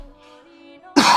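A single harsh cough bursts out at the end after a near-silent stretch with faint sustained tones.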